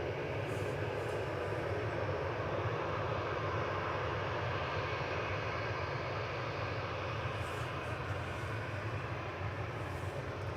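An Airbus A380 airliner at Manchester Airport gives a constant, heavy jet engine roar with strong low rumble, steady and loud throughout without break, and no voices over it.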